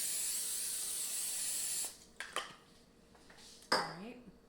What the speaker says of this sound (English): you want to spray it with some cooking spray